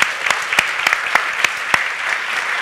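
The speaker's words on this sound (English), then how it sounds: "thank you very much with a very warm applause" Steady applause from a crowd fills the whole stretch, a dense patter of many hands with a few sharper claps standing out, no voices over it.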